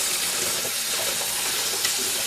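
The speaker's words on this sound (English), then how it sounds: "Rinse under heavy water in all directions just to get the surface stuff off." Heavy water from a tap rinses over the parts of a CatMate cat fountain, a steady broadband hiss and splash running close and loud throughout with no talk.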